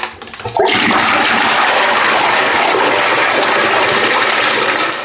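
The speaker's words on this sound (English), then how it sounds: "let's give this toilet a flush" A toilet in a newly fitted bathroom flushes loudly and close by, a rushing surge of water that starts after a brief clunk and continues steadily to the end.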